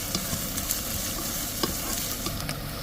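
Green chillies sautéing in a pan for watermelon rind pickle, giving a steady close sizzle with brief stirring scrapes throughout and no talk.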